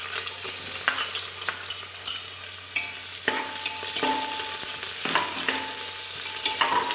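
Sliced onion sautéing in coconut oil in a pan, a steady sizzle with repeated scraping stir strokes, close and alone without talk.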